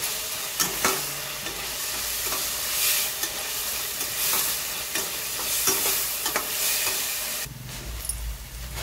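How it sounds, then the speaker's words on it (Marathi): Onion and tomato frying with salt in a pan, a steady close sizzle and hiss with stirring scrapes throughout, running alone with no talk. "आता कांदा आणि टोमॅटो पटकन भाजावा याच्यासाठी आपण याच्यात मीठ घालत आहोत, जेणेकरून हा कांदा पटकन भाजला जातो।"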